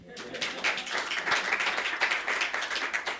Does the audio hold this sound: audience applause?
yes